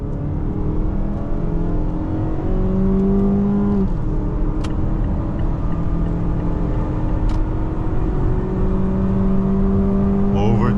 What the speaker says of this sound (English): that 4-banger screams its heart out